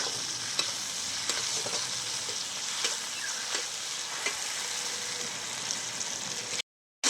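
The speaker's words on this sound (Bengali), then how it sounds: "এবার দিয়ে দিচ্ছি টমেটো কুচি। টমেটোর মধ্যে সামান্য করে নুন দিয়ে দিচ্ছি যাতে টমেটোটা ভালোভাবে গলে যায়।" Chopped tomato with a pinch of salt frying in oil in a pan, a constant close hiss of sizzling with light scrapes from stirring, steady and fairly loud, cutting off abruptly near the end.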